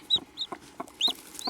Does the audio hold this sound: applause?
no